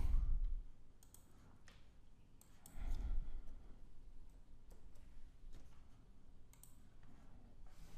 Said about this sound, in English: you need to click on update name servers